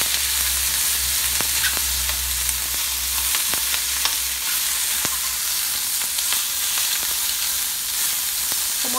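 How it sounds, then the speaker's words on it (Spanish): Chicken gizzards fry in very hot oil for a Mexican-style stew, a loud close sizzle broken by repeated sharp spattering pops and clicks from the pan. "Ya tengo el aceite bien caliente, vamos a agregar las mollejas y las vamos a freír."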